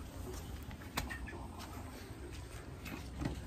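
Chickens cluck faintly on a farm in Ilam, Nepal, with soft scattered calls over a low background murmur and no speech.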